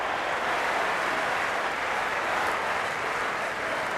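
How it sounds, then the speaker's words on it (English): A packed cricket stadium crowd at an India vs Pakistan T20 match roars and claps in a steady, continuous wash of cheering, distant and uniform throughout. "It's evident and ever so audible that the crowd is at near bursting point at today's play."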